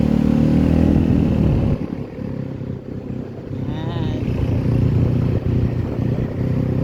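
A motorcycle engine runs nearby with a low, steady rumble that dips briefly and then settles back into a continuous drone, with faint background voices.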